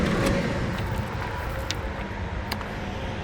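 A Kenworth T800 truck's 550-horsepower Cummins ISX diesel engine runs steadily, a loud, even low rumble with a few brief higher clicks on top.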